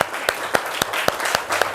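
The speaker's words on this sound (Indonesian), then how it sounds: "tepuk tangan untuk Safa" A classroom claps briefly after a biology lesson, a handful of sparse, fairly faint hand claps in an uneven rhythm.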